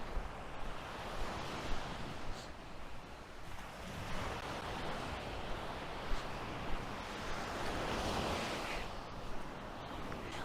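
Sea waves wash continuously onto a sandy beach at Mersin Marina in the Mezitli district, a steady broadband surf roar with gentle swells and some wind buffeting, heard alone without speech.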